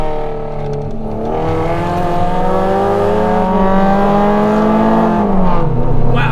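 A heavily modified Honda Civic Type R FN2 with a K24/K20 engine revs up close and loud, its engine note rising steadily in pitch and then dropping briefly near the end.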